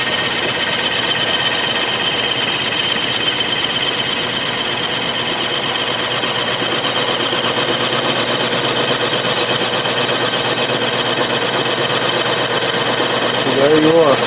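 Grizzly milling machine boring a metal part under spindle power feed, a steady dense mechanical whine and hum with a fine rapid rattle, running continuously and close throughout, with a brief scraping flurry near the end.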